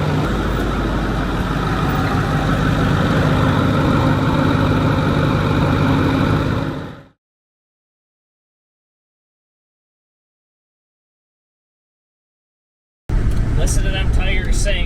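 2008 Ford F450 with a 6.4L diesel engine running after a head gasket job: a loud, steady, close rumble for about seven seconds, then abrupt silence, then the loud engine sound returns.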